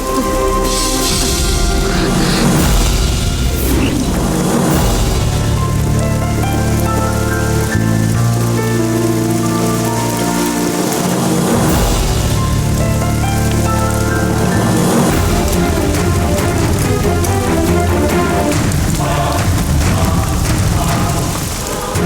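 Heavy rain pours down continuously, a dense, loud hiss that never lets up, with low rumbling and tonal sounds underneath.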